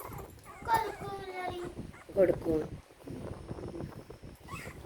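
A litter of puppies whimpers in thin, high whines that come in short bursts, close by and partly under a person's talking.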